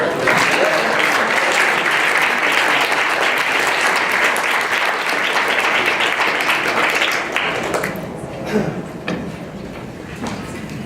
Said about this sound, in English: if we could give him a big round of applause